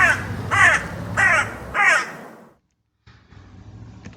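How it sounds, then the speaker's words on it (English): A crow caws four times in a steady, loud, close series, followed by a brief silence and faint background noise. "This is a crow."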